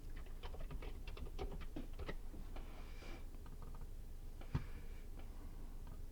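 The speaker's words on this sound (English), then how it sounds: "now I'm going to type in the Ghillie T." Keyboard typing in a text tool while building a thumbnail in Motion 5: bursts of quick, light key clicks close by and moderately quiet, easing off partway, then a single sharper click near the end.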